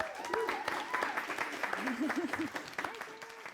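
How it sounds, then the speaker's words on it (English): Studio audience applause on a talk show, moderately quiet clapping mixed with voices and some sung or spoken tones over it. "Round of applause for our girl."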